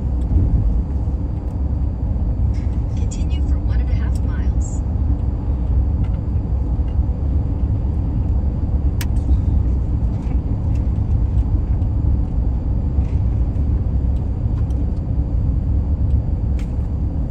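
A truck drives along a road in Longview, Texas, heard from inside as a steady low rumble of engine and tire noise that holds at an even level throughout, with a few faint clicks and rattles near the start.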